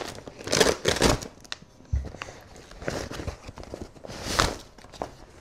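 Rustling and crinkling as an Adidas IBA boxing helmet in red is unwrapped from its plastic bag, with scattered crisp bursts of handling noise and a soft thump, close and moderately loud.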